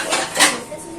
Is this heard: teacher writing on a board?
no